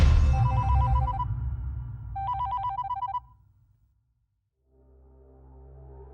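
A telephone rings indoors in two bursts of bright electronic trilling, with a low rumble of background noise under the first, then falls silent before a low hum comes in.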